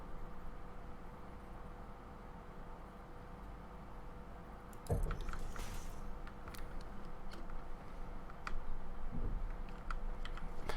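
Keyboard keys and mouse buttons click in quick bursts during a Satisfactory play session, soft close taps that thicken into a denser flurry halfway through over a steady low hum.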